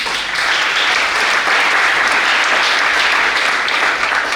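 A church congregation applauding the Lord during a French-language worship service, steady, dense clapping from a large crowd that holds level throughout with no voices above it.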